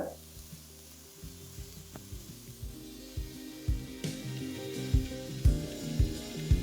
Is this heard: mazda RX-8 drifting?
no